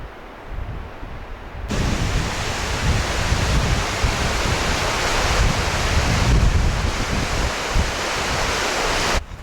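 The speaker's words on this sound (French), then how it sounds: "il y a un vent de fou furieux" Strong wind blows outdoors and buffets the microphone with a loud, rough roar that starts abruptly after a quieter opening moment and then holds steady, rising and falling slightly.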